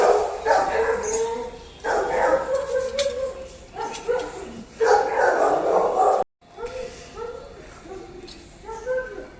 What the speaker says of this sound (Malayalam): മെയിൽ ഡോഗ് അവിടെ നിന്ന് നല്ല രീതിയിൽ ഷൗട്ട് ചെയ്യുന്നുണ്ടായിരുന്നു.